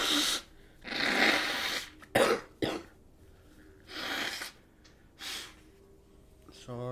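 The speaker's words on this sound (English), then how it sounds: "Actually, I'm gonna blow my nose for a second." A person blows their nose in several forceful, noisy bursts close to the microphone, with short pauses between them, then a brief voice follows.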